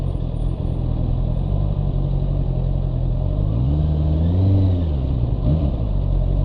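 Heavy road traffic rolls past a motorcycle rider in congested conditions, with a steady loud engine rumble and wind roar and one car or engine revving up and fading nearby.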